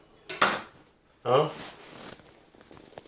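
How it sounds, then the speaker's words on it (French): A knife saws through a homemade English muffin in a few short, crisp scraping strokes, close up, with quiet pauses between them and a voice speaking in the background. "je vais couper pour que vous voyez l'intérieur"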